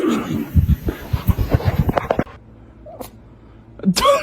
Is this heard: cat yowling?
yes